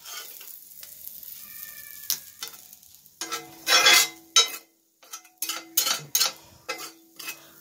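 Sardines roasting in oil on a tawa give a steady close sizzle that turns into loud crackling bursts in the second half. The bursts come with short metallic scrapes and stirring clatter, and no one speaks.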